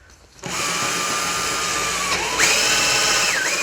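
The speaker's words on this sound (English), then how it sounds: "When you actually fire these larger drill bits through" A power drill with a large bit whirs steadily, boring into reclaimed pallet wood, the motor's pitch shifting up and wavering as the bit bites through.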